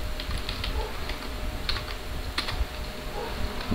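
A computer keyboard clicks under a command being typed, with quick irregular keystrokes and a few firmer presses, close and clear with no talk.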